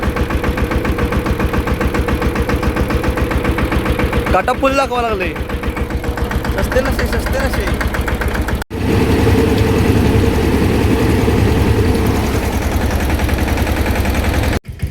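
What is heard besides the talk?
tractor engine running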